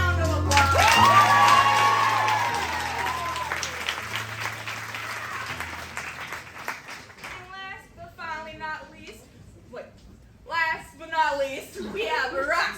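A theater audience breaks into loud applause and cheering with whoops for an actor coming on stage at a spring stage production, after some music, then voices and shouts mix into the fading clapping.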